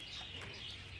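Trained homing pigeons coo indoors, soft throaty calls heard faintly over a continuous room hiss for a brief moment, with no talk.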